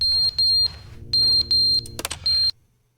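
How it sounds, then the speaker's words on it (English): Repeated electronic smoke alarm beeps from The Stanley Parable video game sound out in several steady, loud chirps with short gaps, a brief clatter near the end, then silence. "That's smoke alarm, yeah."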